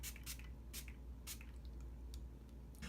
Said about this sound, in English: I will go ahead and set with the Too Faced Hangover Primer and Setting